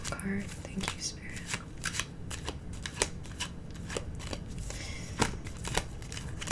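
Oracle cards are shuffled for a tarot reading, giving a close, crisp run of riffling and flicking card slaps with sharp bursts through the clip, alongside soft-spoken talk.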